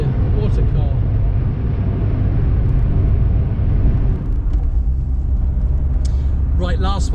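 A restored Ford Escort RS1600i engine drones loudly and steadily at close range, with a voice speaking over it near the end.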